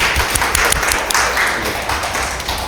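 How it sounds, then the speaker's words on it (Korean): Audience at a university innovation forum clapping for two peer-counselor teachers, a dense, steady wash of applause with scattered sharper claps running throughout, fairly loud and close, with no talking over it. "두 분께도 큰 박수 한번 드릴까요?"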